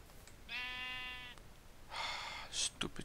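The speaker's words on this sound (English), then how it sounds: "Stupid sheep." Sheep bleating in the video game Minecraft: two separate bleats, the first a clear wavering tone, the second harsher and raspier, with brief noises following, all fairly faint.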